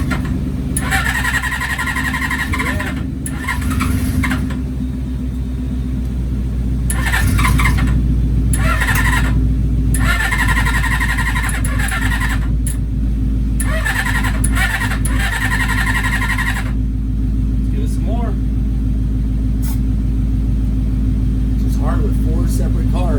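A 1981 Suzuki GS550 motorcycle engine with separate carbs cranks and runs with a loud, steady low rumble, close by, with intermittent bursts of higher noise and no talk.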